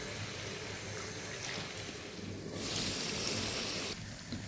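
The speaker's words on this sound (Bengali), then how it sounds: "এখন অল্প একটু জল দিয়ে নিব।" A little water is poured into a pan of king prawn curry, a soft splashing pour that swells midway and then cuts off, over a quiet kitchen background.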